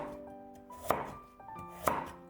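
A knife cuts a peeled carrot into small pieces on a cutting board, making two sharp chops about a second apart with softer taps in between, close and clear over quiet background music.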